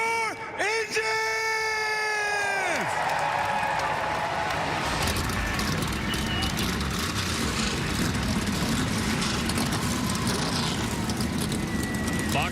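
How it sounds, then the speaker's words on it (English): Stock car engines fire up at the 2022 Daytona 500, a dense roar swelling into a loud sustained rumble after a brief opening tone, with an announcer speaking over it. "Drivers, start your engines!"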